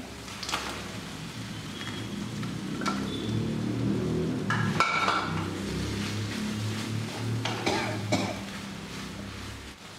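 Chilli parotta pieces stirred into gravy in a pan, a moderate bubbling sizzle with sharp scraping and clanking strokes from a spatula at irregular intervals, close up.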